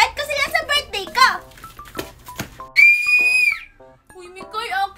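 A child blows a toy whistle in one sustained shrill blast in the middle, with excited children's voices chattering before and after it during play.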